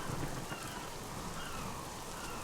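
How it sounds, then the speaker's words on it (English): Rain in the video game Submerged, a dense steady hiss of falling drops, loud and continuous with a faint low rumble underneath. "There's the rain. Here comes the rain."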